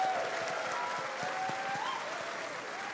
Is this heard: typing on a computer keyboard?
no